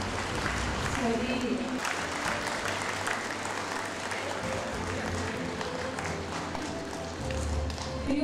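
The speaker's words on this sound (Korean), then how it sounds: "다시 한번 큰 박수 부탁드리며" Audience applause at a county citizens' day anniversary ceremony during a group photo session in Okcheon, a broad steady wash of clapping filling the room with a muffled voice and low rumble underneath.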